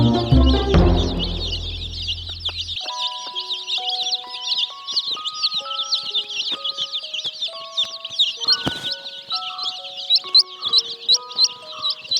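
A mother hen clucks softly and repeatedly while feeding her chicks, amid a dense chorus of high peeping from many chicks close by, after a short low noise at the start.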